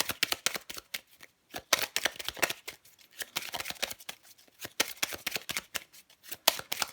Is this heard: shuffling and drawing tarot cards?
yes